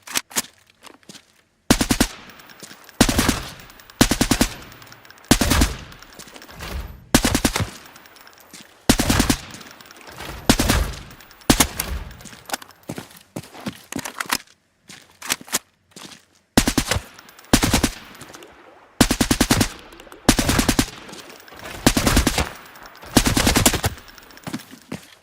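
Automatic gunfire in the video game Arena Breakout Infinite, repeated loud bursts of rapid shots separated by short pauses and faint footsteps, steady through the whole stretch with no talking.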